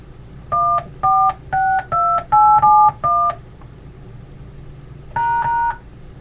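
Telephone keypad DTMF tones entering a host PIN on a call-in radio line: six short steady two-tone beeps in a quick even series, a pause, then one longer tone, clear and alone.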